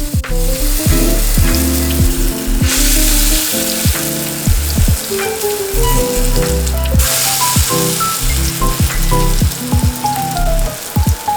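Pancakes fry in a hot pan with loud, continuous sizzling and crackling over about eleven seconds, with bursts of spattering and occasional clinks of a utensil, close and with no voices.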